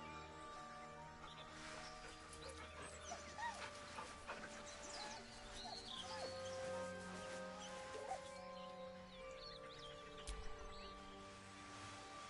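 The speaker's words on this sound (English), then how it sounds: "The dog whimpers nervously, as if to urge you on." A dog whimpers nervously in Baldur's Gate 3, soft high whines and small yips fairly close over a quiet sustained musical background, with no talking.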